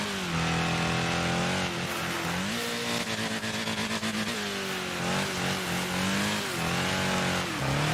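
A racing car engine in the video game Wreckfest revs hard and continuously, pitch rising and dropping through gear changes, loud and close.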